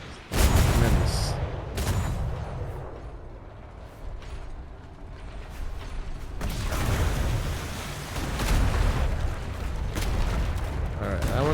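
Cannons on a war galleon fire in the ATLAS video game in repeated loud booming blasts with rumbling tails, several volleys overlapping in heavy, sustained battle noise.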